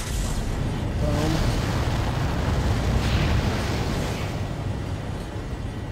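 A vehicle explodes in the sci-fi horror game Dead Space, a loud, heavy low-end blast that rumbles and roars steadily for several seconds before slowly easing off.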